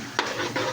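A brief burst of ginger sizzling in hot oil as it is stirred in a pan for pork dinuguan, with a close, crackling hiss and a light scrape of stirring.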